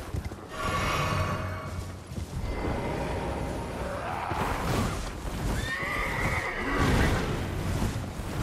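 A horse in the video game Elden Ring neighs and whinnies loudly in repeated bursts, with hoof clatter and game sounds mixed in throughout.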